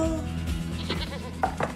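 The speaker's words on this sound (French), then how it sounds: "Vous avez une chèvre?" A goat bleats several times in short, wavering cries, close and fairly loud over a busy background.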